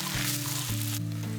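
Rice being toasted and stirred in hot oil and ghee gives a continuous sizzle and hiss, heard over a steady tonal background hum for a brief moment.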